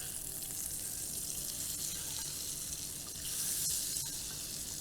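Hot tadka (spiced oil tempering) sizzles and crackles as it is poured into yogurt for a phulki recipe, a continuous close sizzle that swells briefly louder partway through, with no voices.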